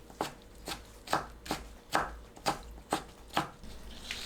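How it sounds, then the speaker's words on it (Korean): A knife chops through softened, steamed napa cabbage stems on a cutting board, eight crisp, evenly paced strokes sounding close and clear with no talk. "자른 배추 줄기는 작게 썰어줍니다"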